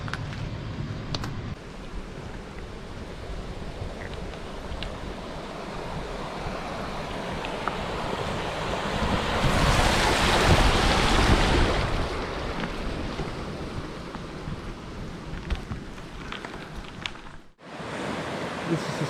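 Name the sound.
bicycle crossing a stream of water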